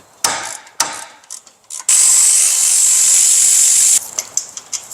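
A ratchet loosening the starter bolt on a PT Cruiser during clutch removal: a few quick clicking pulls, then a long steady rasping whir of the ratchet spinning, followed by more scattered metallic clicks close up.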